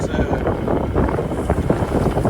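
Strong wind of close to 20 knots roars across a sailboat in a steady, loud rush of buffeting microphone noise, with water sounds beneath and a voice partly heard.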